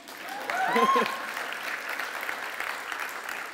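Keynote conference audience breaks into applause, a brief rise of cheering and a whoop near the start, then even, moderate clapping that carries on steadily, slightly distant in a large room.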